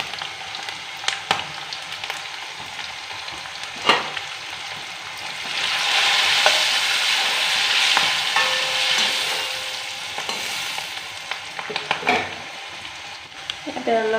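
Ginger and garlic sizzle in a hot pan with a soft steady hiss, briefly swelling louder midway as they are stirred, with light clinks of utensils against the cookware.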